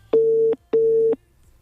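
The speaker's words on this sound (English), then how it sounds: "Calling. It's ringing." A telephone ringing tone sounds twice in a quick double burst, even and electronic, then falls silent.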